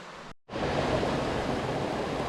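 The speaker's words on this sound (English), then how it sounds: "take a look at the river" A mountain river in New Hampshire's White Mountains rushes over cascades, a dense, steady roar that cuts out for an instant and then resumes at full strength.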